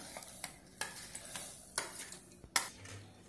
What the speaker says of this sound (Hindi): फ्रेंड्स, अब ये सारा साबूदाना तला हुआ हम इसमें डाल देते हैं।